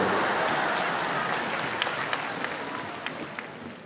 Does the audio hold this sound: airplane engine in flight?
no